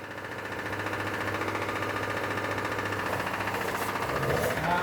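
An SR20DET-swapped Datsun 510 engine runs steadily with a dense mechanical drone and ticking, holding a fairly even level throughout, heard close with no voices.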